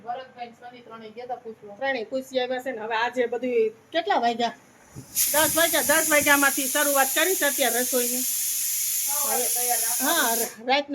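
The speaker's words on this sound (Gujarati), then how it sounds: "બટેટા બફાય જ છે કુકર ચાલુ છે બફાવાના" A pressure cooker boiling potatoes lets out a loud, steady steam hiss that starts midway and holds for about five seconds before cutting off, with people talking over it throughout.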